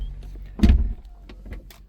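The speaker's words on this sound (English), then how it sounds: "We have soft closed doors of course" A soft-close door on a BMW E66 740Li pulls shut, a single muffled thunk followed by a short whir of the closing mechanism and faint settling sounds.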